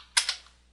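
Two quick clicks sound close by as keys are struck on a computer keyboard while a DOS command is typed.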